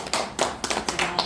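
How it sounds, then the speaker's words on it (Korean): Applause from an audience at a Korean volunteer group's New Year gathering, heard as a short run of sharp, separate claps in quick uneven bursts at fairly close range, with no voices. "박수"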